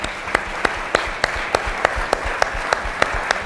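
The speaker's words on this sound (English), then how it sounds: "I would like to ask for a round of applause for my colleagues here." An audience applauds outdoors at a talk on technology and social impact, a steady crackle of clapping with a few sharp, evenly spaced louder claps standing out close by.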